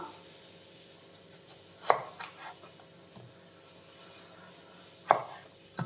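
A knife cutting raw mango into long pieces for pickle, giving two sharp, close chops on a board about three seconds apart with faint scraping between, no voices.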